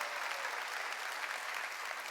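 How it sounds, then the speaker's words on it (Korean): A church congregation at a summer revival meeting claps together in sustained, even applause, a dense roomy wash of many hands with no talk. "박수로 하나님께 영광 돌려요."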